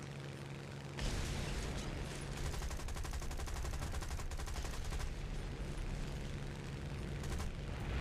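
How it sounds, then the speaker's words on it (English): Aircraft guns firing in War Thunder, a dense continuous burst of rapid gunfire that starts abruptly after a second of quiet and rolls on loudly for about seven seconds, with booming low rumble underneath. "These guns are so weak that you're gonna have a hard time killing stuff with these."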